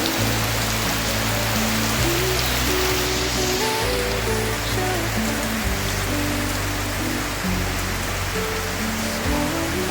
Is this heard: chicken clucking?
no